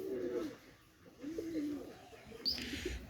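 An adult female Omani KTM pigeon gives soft, low coos in a few short phrases, close but quiet, with a brief brighter chirp near the end.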